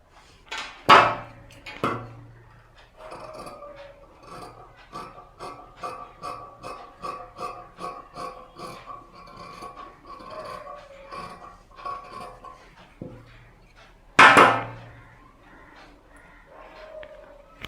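Pieces of fabric for a button tab sleeve are cut with scissors. A long run of soft, evenly spaced snips sounds close by, framed by a few louder handling thumps near the start and toward the end.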